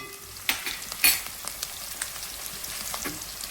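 Sliced onions and green chillies fry gently in oil over a low flame, giving a soft, steady sizzle with a few sharp crackles and pops near the start.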